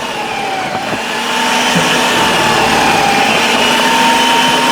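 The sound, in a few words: 4-in-1 food processor running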